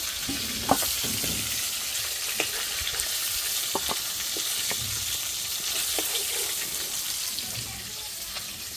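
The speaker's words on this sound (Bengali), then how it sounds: "মাছ ভাজা হয়ে গেছে, নামিয়ে নিব।" Fish frying in hot oil gives a continuous bright sizzle and crackle, with a few sharp clinks of a utensil against the pan.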